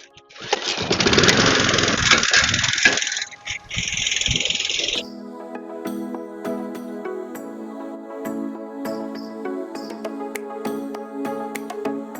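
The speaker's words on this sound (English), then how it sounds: "time to get the lawnmower going." A small engine sputters loudly for a few seconds, then settles into a steady droning hum with a strong pitched tone, running continuously.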